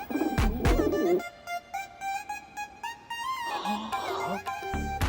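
A pigeon coos softly in short, repeated phrases amid background music and clatter.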